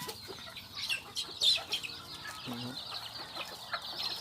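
Bantam chickens clucking in a backyard breeding pen, several soft clucks and short calls scattered over a steady outdoor background, fairly close, with a voice faintly present.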